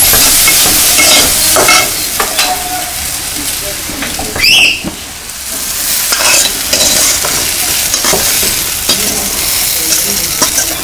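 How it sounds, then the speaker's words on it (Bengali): Chilies and garlic fry in a pan and are stirred repeatedly: a loud, continuous sizzle with scraping stirs near the start and middle and one brief high squeak, with no speech. "তো আমার মরিচ আর রসুনগুলা ভাজা হয়ে গেছে"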